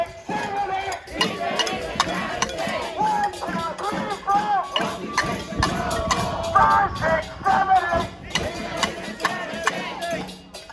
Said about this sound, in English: And today, pots, pans, we need to be loud.